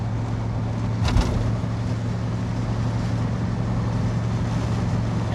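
A 1991 Chevrolet Suburban 1500 4x4 with a 6.2 diesel engine drones steadily while accelerating on the road, heard from inside as a constant low, rumbling engine note with wind and road noise and a brief bump early on.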